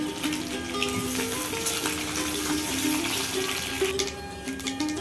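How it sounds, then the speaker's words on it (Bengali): Eggs frying in hot oil in a wok, a steady bright sizzle with faint metallic scraping and clinks over a low background hum. "এবার কড়াইতে তেল গরম করে ডিমগুলো ভেজে তুলে নেব।"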